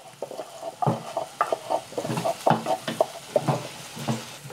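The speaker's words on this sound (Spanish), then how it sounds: "Voy a poner la cebolla de una vez aquí en las papitas." Onion and potatoes fry in a pan while being stirred, soft sizzling under a series of irregular scraping, clattering stirs close by.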